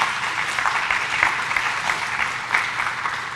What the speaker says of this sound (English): I think that they deserve a round of applause for Sylvia, for Jimmy, and for Beth